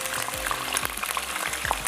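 Bone-in meat sizzles loudly in a hot pot for kabsa, a constant crackle of frying with a few faint stirring scrapes.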